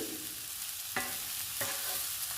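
Eggs frying with masala in a pan for an onion curry with meal maker, a steady sizzle carrying on throughout, with two sharper scraping stirs standing out partway through.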